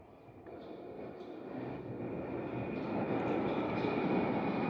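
A London Underground train rumbles into a station, its low roar steadily building and growing louder over several seconds, with a faint high whine riding above.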